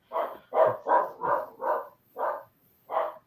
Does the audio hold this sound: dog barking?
yes